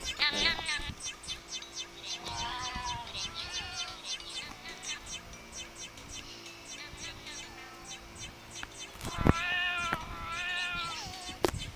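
Cartoonish cat meows, repeated high and bright, while the cat is fed hamburgers in the video game Rise a Floppa, over background game music and someone talking.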